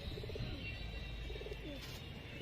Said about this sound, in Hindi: ये इनके ब्रीडर कबूतर हैं जी, टैडी कबूतर देख सकते हो।